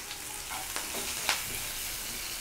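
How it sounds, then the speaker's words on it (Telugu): Onion pieces frying in a pan, a constant close sizzle overlaid with a few scraping stirs and one sharper clink before it cuts off abruptly. "ఈ ఉల్లిపాయ ముక్కలు కూడా వేసుకొని ఫ్రై చేసుకోవాలి"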